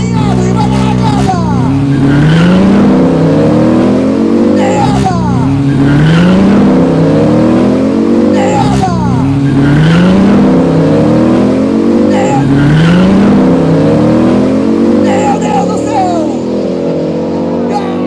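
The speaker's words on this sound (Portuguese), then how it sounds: "Alinhado e vai dar largada." Drag racing cars at a Volt Outlaws street-style arrancada event rev hard and launch from the start line, repeated rising engine sweeps roaring loud and close, with crowd and announcer speech mixed underneath.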